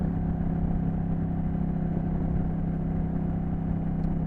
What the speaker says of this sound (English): The bike is loud, it's windy.